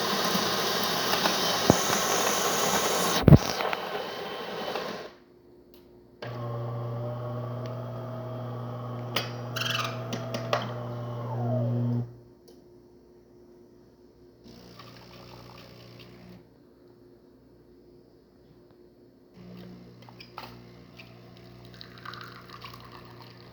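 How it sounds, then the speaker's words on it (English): A DeLonghi Prima Donna S Deluxe espresso machine, freshly serviced, whirs and hums loudly in bursts, with liquid trickling and pump sounds, then quieter gurgling stretches between pauses. "Here we have a nice shot of espresso."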